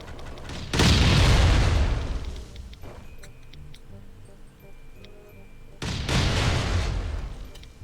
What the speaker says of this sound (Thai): าแล้วก็ระเบิดไปเรื่อยๆเลยครับ